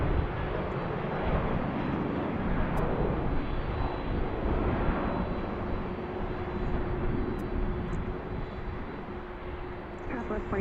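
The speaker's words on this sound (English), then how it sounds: "Southwest taking off. It's like a" A Southwest Boeing 737-700 takes off at BWI airport, its engine roar loud and steady throughout, a broad continuous rumble heard from nearby outdoors.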